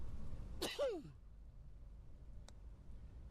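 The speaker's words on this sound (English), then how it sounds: "We got a sneeze." A single short sneeze from a video game character bursts out, followed by a brief falling vocal squeak, then a faint click in a quiet background.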